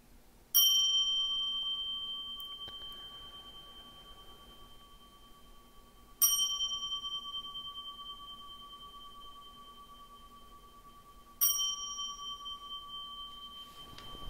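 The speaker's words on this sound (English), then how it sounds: "Give me 3 bells, please." A meditation bell at a Zen dharma talk is struck three times, roughly five seconds apart, each clear ringing strike sustaining and slowly decaying in a quiet hall.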